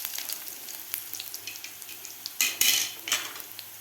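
Crushed garlic fries in a pan for a fenugreek leaf curry, a soft sizzle broken by light metallic taps and a louder burst of spattering scrapes toward the end, close and without talk.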